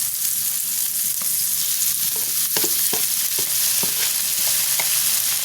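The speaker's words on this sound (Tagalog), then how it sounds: "Haluin natin mga friends." Canned ground pork frying in a pan with sautéed onions, garlic and tomatoes, a steady bright sizzle broken by intermittent scrapes and clacks of a spoon stirring, close and continuous with no talk.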